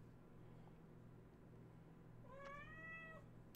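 A cat meows once, a clear drawn-out call near the end, over a low steady electrical hum with no one speaking.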